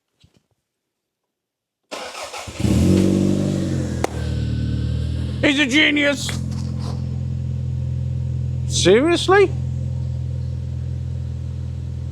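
A Toyota Celica GT-Four engine starts and settles into a steady idle, with brief revs rising over the rumble while people speak a few words.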